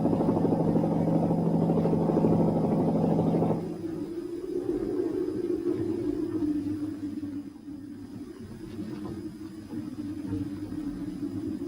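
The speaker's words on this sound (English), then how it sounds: "Again, only helicopters could help." Helicopter flying over snowbound Dartmoor during the 1963 big freeze, a steady loud rotor drone and engine rumble that holds throughout, heavier at first and then settling into a lower continuous hum.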